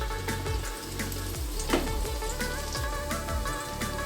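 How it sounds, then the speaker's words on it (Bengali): Pumpkin slices frying in hot oil, giving a steady crackling sizzle with scattered sharp pops and spatters, close and moderately quiet, no voices. "দেখো কুমড়োগুলো কিন্তু আমার ভাজা হয়ে গেছে"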